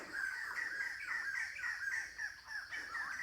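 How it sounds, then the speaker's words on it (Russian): Several birds squawk and caw loudly and repeatedly near an ancient hilltop temple complex at Phnom Dei near Angkor, their harsh overlapping calls continuing without pause and with no talking. "О, птицы раскричались."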